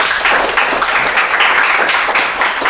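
A classroom of students applauds before a group presentation, a dense, steady patter of many hands clapping together at close range for a few seconds.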